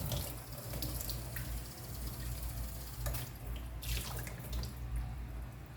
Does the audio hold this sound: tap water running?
yes